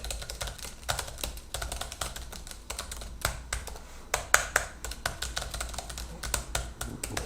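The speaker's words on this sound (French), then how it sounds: "On écoute la frappe des touches." Typing on the keyboard of an MSI Prestige 14 laptop: quick irregular key taps with soft clicks and occasional sharper presses, close and fairly quiet, no talking.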